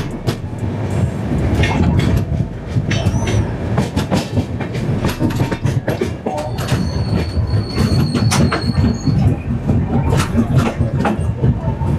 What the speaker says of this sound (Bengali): ট্রেন মাত্র 5 মিনিট লেটে এসে পৌঁছালো পুরী স্টেশনের 4 নম্বর প্ল্যাটফর্মে